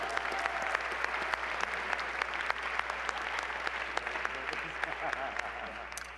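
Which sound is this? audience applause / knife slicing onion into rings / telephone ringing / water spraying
audience applause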